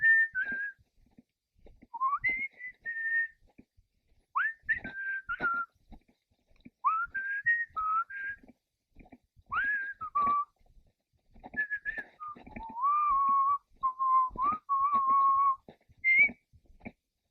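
A person whistles loudly outdoors in the bush, in a series of sharp, piercing phrases, some rising and some held steady, separated by short pauses across the whole stretch.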